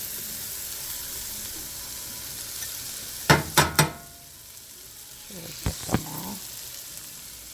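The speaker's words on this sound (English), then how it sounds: "Now we're gonna saute our onions." Onions sauteing in melted butter in a pan for chicken pot pie, a steady soft sizzle broken by a few sharp scraping stirs, with a brief spoken remark.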